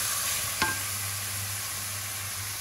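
Vegetables stirred in fish stock in a pan, a steady hiss of simmering with one brief knock from a spoon early on; no speech.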